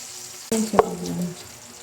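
Chopped garlic hitting a hot pan in a home kitchen, a sudden sizzle that starts sharply and fades over about a second, with a brief clatter of utensils, no talking.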